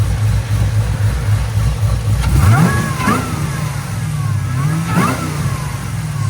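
A Whipple-supercharged Chevy Camaro SS with long tube headers and cold air intake rumbles loudly up close and revs in short bursts, each rise bringing a rising supercharger whine over the deep exhaust.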